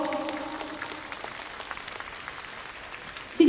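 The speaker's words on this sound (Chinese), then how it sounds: "热情的掌声为他们加加油！" Steady, sustained applause from the audience fills the hall at the 2018 WDC World Grand Prix Latin dance competition, Asia-Pacific amateur section. It stays fairly even throughout, with a faint tone underneath at first and a sudden louder burst at the very end.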